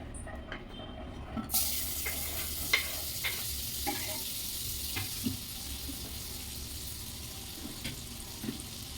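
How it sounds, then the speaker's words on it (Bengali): Butter with a little white oil melting and sizzling in a wok for a vegetarian mixed vegetable dish, a steady close fry hiss broken by scattered scraping and stirring clicks. "এবার এই কড়াইতে প্রথমে আমি বাটা দিয়ে দেবো"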